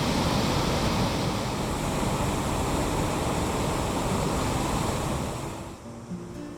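Ocean waves wash continuously onto a beach among sea stacks at sunset, a broad steady roar that eases slightly near the end.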